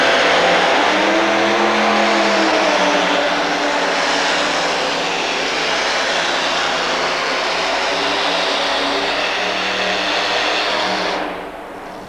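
A modified tractor with two engines makes a pulling run at a 1989 New Jersey tractor pull, a loud, dense roar heard from the stands that holds steady for most of the run before cutting off near the end.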